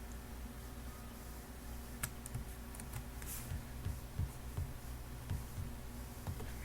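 Keyboard keys tapped in a short, quiet shortcut press, faint scattered clicks with small irregular gaps over a low steady background hiss.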